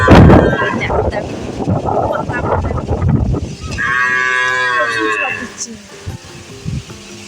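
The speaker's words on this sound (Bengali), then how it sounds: "এই যে আমাদের বাছুরটা চেঁচিয়ে যাচ্ছে সেই থেকে" A calf moos loudly and repeatedly outdoors during a storm, its drawn-out calls rising over gusting wind, with a person talking nearby.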